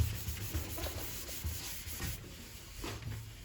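Quiet, close rubbing of 400-grit sandpaper on wood of a divan saz in repeated back-and-forth strokes, soft and rhythmic.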